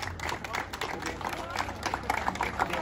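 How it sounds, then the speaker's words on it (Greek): A crowd applauds at a horse beauty contest during a seaside festival for Saints Constantine and Helen at Thermi beach on Lesvos, with steady close clapping mixed with someone talking over a loudspeaker. "Ένα χειροκρότημα."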